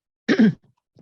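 A single harsh cough, close and fairly loud, followed by a couple of faint low rustles and a short soft throat sound.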